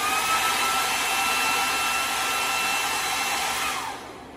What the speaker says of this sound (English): We're all familiar with what a hairdryer sounds like.